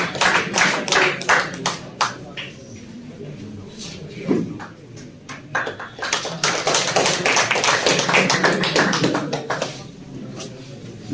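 Applause for a participant at a pigeon tournament in Kashmir, with bursts of clapping from a crowd that start, fade and swell again, while an announcer speaks over it.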